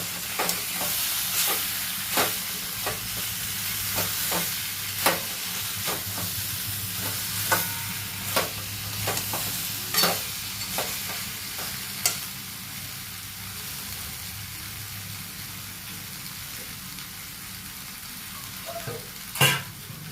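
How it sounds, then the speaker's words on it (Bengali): Chickpea-lentil fritter curry mixture being stirred in a hot pan after salt is added, with a steady frying sizzle and repeated sharp spatula scrapes and clicks throughout, close and fairly loud, no talking. "এবারে স্বাদ মতো লবণ দিয়ে দিলাম। ভালো করে নাড়িয়ে নেব।"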